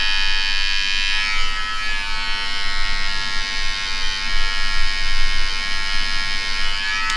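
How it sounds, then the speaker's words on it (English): An electric hair clipper cuts hair during a taper fade, giving a loud, steady high-pitched buzz that wavers slightly in strength as it moves, with no talking. "You take the clipper, you reverse it around"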